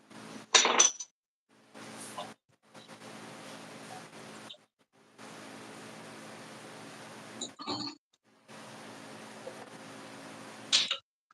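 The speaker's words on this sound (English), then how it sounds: "Let me grab a spoon." Short metallic clinks of a spoon against dishes, a few brief separated hits with quiet gaps between, close by and moderately loud, with no talking.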